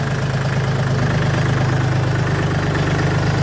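A 2022 DongFeng 244 tractor engine idling close by, a steady low throbbing rumble with an even knocking pulse and no other sounds.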